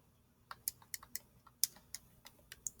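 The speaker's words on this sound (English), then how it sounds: "So all you're going to do is just type those in." Numbers typed into a calculator or computer keyboard for a normal distribution calculation: a dozen or so light, quiet key clicks in an uneven rhythm.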